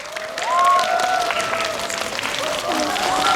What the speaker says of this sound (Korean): 큰 박수로 환영해 주시죠.